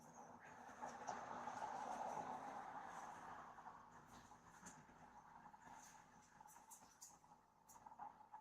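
A distant train rumbles steadily with a low, broad hum, swelling early then fading, with faint clicks and hiss over it.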